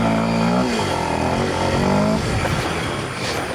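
A Kawasaki KLX 230 motorcycle engine revs up as the ride begins, a loud close rising drone that climbs in pitch and then settles into a rougher running rumble.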